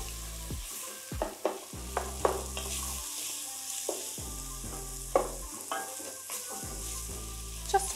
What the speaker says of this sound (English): Just want to cook these down so they're translucent, so about a minute. And keep stirring, and it is on high heat.